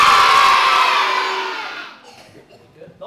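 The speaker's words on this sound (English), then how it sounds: "So we're going to do a practice cheer now." A hall full of primary school children lets out a loud practice cheer at a tennis centre assembly, a sustained roar of shouting that swells at once and fades out over about two seconds, leaving quiet murmurs.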